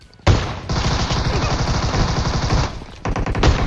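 Rapid loud gunfire in PUBG mobile gameplay, a long continuous rattling burst followed by a short pause and another quick volley, close and dominant.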